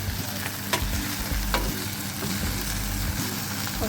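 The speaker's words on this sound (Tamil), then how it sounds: "வெண்டைக்காய் ரொம்ப நேரம் ஆகாது வேகிறதுக்கு, ஓகேவா?" Okra (lady's finger) fries in a pan for mor kuzhambu with a close, loud, continuous sizzle, and a few soft clicks of stirring are heard, with no talking.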